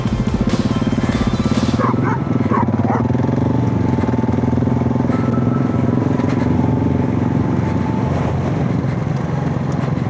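A shepherd dog barks a few times near a loud Husqvarna 701 Enduro motorcycle whose engine drones steadily throughout on a mountain trail, the barks brief and partly buried under the engine.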